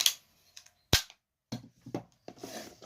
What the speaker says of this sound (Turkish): Kuru sıkı tabanca.